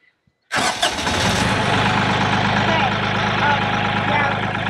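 Kioti tractor engine cranking and catching after a moment of near silence, then settling into a loud, steady idle close by.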